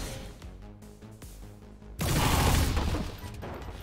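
Rapid-fire gunshots in the strategy game XCOM 2 burst out loudly about halfway through, a dense crashing volley following quieter in-game mechanical sounds and music.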